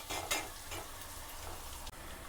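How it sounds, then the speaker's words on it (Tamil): Shallots and meat sauté in a pan with a continuous close hiss of sizzling and a few brief scrapes of a spoon, with no talking. "சின்ன வெங்காயமும் அது இந்த இறைச்சியும் வதங்கின பிறகு"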